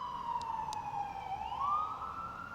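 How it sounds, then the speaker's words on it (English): A police siren wails in the distance, its pitch sliding down then rising again, steady and fairly faint. "Shut up, sirens."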